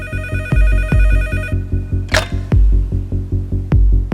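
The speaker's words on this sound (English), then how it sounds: "the phone finally rings" A telephone rings in a documentary about the 2008 Mumbai terror attacks, a loud bell trill over dramatic rhythmic bass pulses and a sharp whoosh, with no voices heard.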